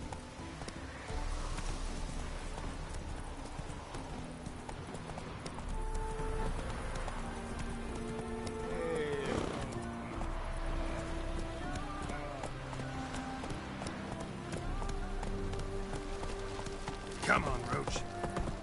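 A horse's hooves clip-clop rapidly in a steady galloping rhythm in The Witcher 3 video game, continuous and moderately loud beneath background music and occasional game dialogue.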